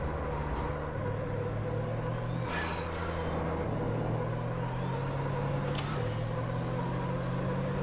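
A Formula Truck racing engine in the Automobilista sim at Interlagos drones loudly and continuously near the listener, its pitch stepping through gear changes as it revs and shifts, with a couple of brief whooshing passes and no talk.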